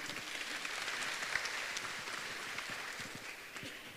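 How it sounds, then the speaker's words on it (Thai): Applause from an audience at an agricultural fair event welcoming an official guest, a steady wash of clapping heard from a distance at moderate level with no voices over it. "ขอเสียงปรบมือต้อนรับท่านประชารัฐจังหวัดอุดรธานี"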